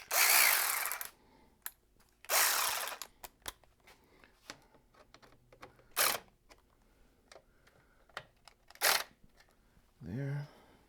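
Power tool tightening radiator guard bolts on a Ducati Panigale V4 Speciale motorcycle, several loud whirring bursts separated by pauses and small clicks, close up, with a voice briefly at the end.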